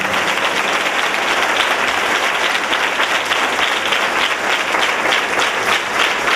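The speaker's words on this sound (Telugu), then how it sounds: "అందరూ చప్పట్లతో దేవుని గణపరుస్తారు" A congregation at a Pentecostal church dedication service applauds together, a loud, dense, even wash of clapping that holds steady for several seconds without voices.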